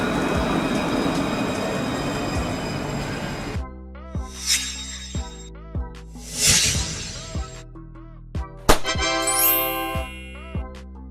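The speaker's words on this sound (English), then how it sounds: "Tram train. Tram train. A train that can run on both city tram tracks and main railway tracks" A tram-train able to run on both city tram tracks and main railway lines rolls past with a broad rumble, then regular clacks of wheels over rail joints, bright metallic tinkles and squeals, loud and close.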